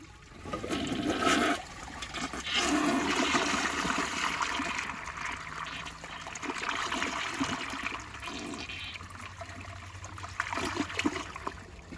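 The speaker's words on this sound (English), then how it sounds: "now that has a weak flush" A Jacuzzi Perfecta toilet with a weak flush gives a close, rushing gush of water that eases into a softer draining swirl and trickle, with no voices.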